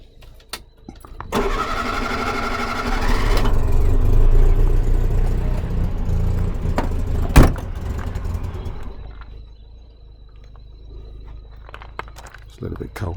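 A cold 1964 Hillman Super Minx with about 29,000 miles is cranked and starts, its engine catching and revving loudly before settling to a quieter idle, with a person talking over it.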